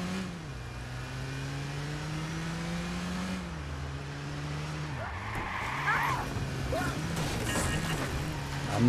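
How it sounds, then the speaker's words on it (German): Car driven in the game Watch Dogs Bad Blood, with an engine drone rising and falling through gear changes, then tyre squeals and skidding as it corners. The sound is close and steady. "Nehmen wir uns die Karre halt. Dann fahren wir da schnell hin."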